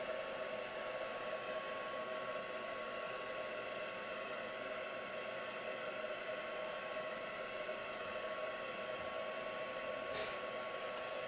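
A hair dryer blows steadily on a craft project, a loud, even whooshing hiss that holds unchanged from start to finish, with a faint click near the end and no voices.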